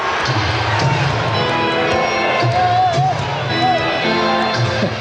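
Crowd noise in a basketball arena during a Pacers at Bulls game, a steady roar of cheering and shouting with a commentator talking over it throughout, and rhythmic clapping possible within the din.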